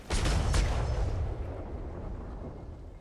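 Ship cannons in a pirate roleplay video game fire in a loud booming volley, a couple of sharp blasts rolling into a long fading rumble, no talking.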